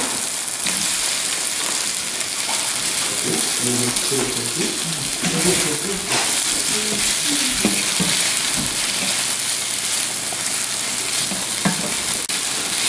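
Turkey kielbasa sausage fries with garlic in a pan, a steady loud sizzle with scraping stirs throughout and a voice talking over it partway.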